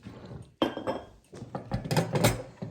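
Several quick metallic clinks of spoons being set into a new spoon holder, close and fairly soft, in short irregular bursts.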